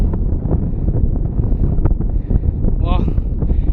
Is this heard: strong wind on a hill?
yes